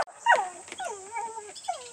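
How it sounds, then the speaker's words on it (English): A dog whimpers and whines in rising, wavering yelps, close and fairly clear, reacting to other dogs across the street; no talking. "Judy sees the neighbor's dogs across the street"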